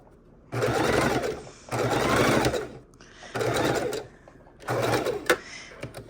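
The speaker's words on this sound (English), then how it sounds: "We're going to go ahead and machine stitch this." A sewing machine stitches a Christmas mitten in four close, steady whirring runs separated by short pauses, with no talk.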